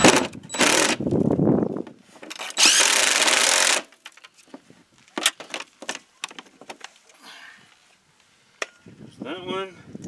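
A battery-powered ratchet driving fender flare bolts on a KRX, with several loud whirring bursts and then scattered clicks and taps of hardware. A person speaks briefly near the end.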